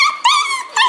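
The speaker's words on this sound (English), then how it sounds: "And they're very vocal." Four young puppies, two fawn and two brindle, whimper and yip up close in three loud, high-pitched, whining bursts with short gaps between them. No talking is heard.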